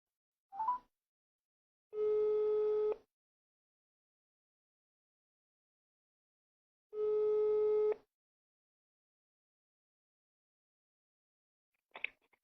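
Outgoing telephone call to a prize-draw winner, with two long, steady ringback tones about five seconds apart, separated by silence, and short faint beeps at the start and end.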